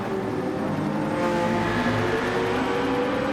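A BMW Z4 race car in a racing video game, its engine droning steadily at a constant pitch and rising slightly toward the middle, with no talk over it.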